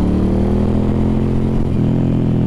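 A Suzuki M50 cruiser motorcycle rumbles on the move, a loud, close, steady engine drone with a brief dip in pitch midway as the rider shifts or eases off.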